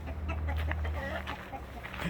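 Araucana chickens cluck softly in short, scattered bursts close by, with a low rumble and some faint background noise throughout.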